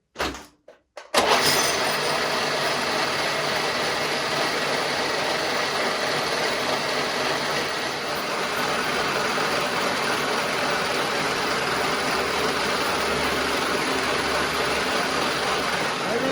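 A lathe machines a BMW dual-mass flywheel, a single-tooth cutter taking light passes, producing a loud, steady grinding whir that runs continuously after a brief quiet start, with no voices.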